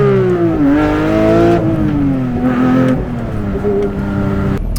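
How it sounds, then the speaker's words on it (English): A 502-horsepower 2023 Porsche 911 GT3 Touring flat-six screams at very high RPM, loud and close from inside the cabin, its pitch rising and falling through gear changes and lifts over nearly five seconds with no talking. "I think everyone in about a maybe half-mile to 1-mile radius will hear this engine absolutely screaming at the top of its lungs."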